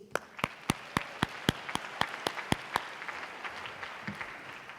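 An audience applauds the premier media sponsors at a sponsor-thanking event: a run of sharp, evenly spaced claps rings out close and loud over a steady crowd clatter, then the clapping thins and softens toward the end.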